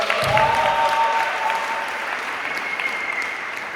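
An audience applauds at a theatre workshop performance, a burst of clapping that starts loud and slowly thins out, with no speech over it.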